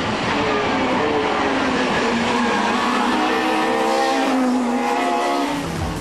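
Chevrolet Cruze WTCC touring race car, a lightly modified production-based machine, driving with a steady loud engine drone and rising, shifting tonal whine throughout, close and continuous.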